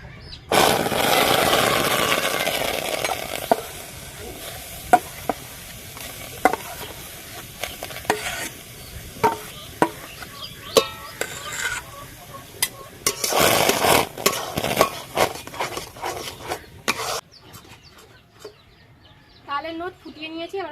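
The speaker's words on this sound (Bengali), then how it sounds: "এবার তালের নোটটা ফুটিয়ে নেব" Palm fruit pulp bubbles and is stirred in a wok over a fire, giving a steady close sizzle with repeated scraping stirs; a voice talks briefly, and chickens cluck faintly in the background.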